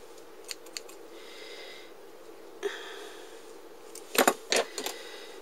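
Scissors snip through lace frills, giving a few light, crisp clicks early on and then a louder cluster of sharp snips near the end over a steady hiss of room noise.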